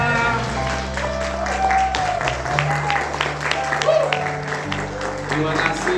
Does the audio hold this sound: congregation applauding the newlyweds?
yes